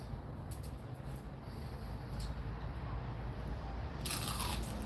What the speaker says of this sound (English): Listen to how crunchy they are.